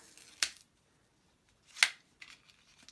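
Scissors cut through vinyl film, two crisp separate snips about a second and a half apart, then a softer trailing rustle, close and alone.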